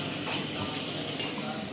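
Vegetables frying in a pan tempered with cumin and asafoetida, a steady close sizzle with soft scraping of the stirring spoon throughout, no voices.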